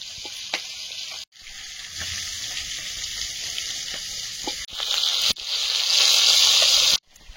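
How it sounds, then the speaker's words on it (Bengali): Fish frying in hot oil in a kadai-style wok gives a steady, close sizzle and crackle that swells louder near the end, with brief gaps and only faint stirring in between. "মাছ প্রায় ভাজা হয়ে এসছে"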